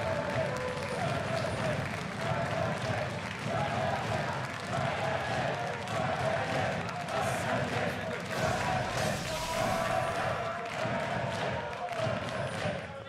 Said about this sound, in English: The crowd beats out a nice rhythm there.